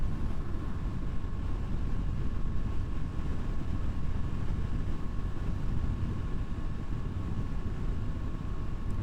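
KTM RC390 motorcycle engine holding a steady speed while riding, a continuous close drone mixed with heavy wind rush, constant and unbroken.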